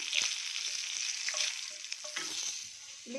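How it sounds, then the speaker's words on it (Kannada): Mustard seeds, curry leaves and dry red chillies sizzle and crackle in hot oil for a South Indian tempering, a steady close frying hiss with scattered pops and light stirring clinks. "ಅದೇ ಬಾಣಲಿಗೆ ಸ್ವಲ್ಪ ಎಣ್ಣೆ ಹಾಕಿದ್ದೀನಿ ಸಾಸಿವೆ ಕರಿಬೇವು ಒಣಮೆಣಸಿನ್ಕಾಯಿ ಹಾಕ್ತೀನಿ ಒಗ್ಗರಣೆಗೆ"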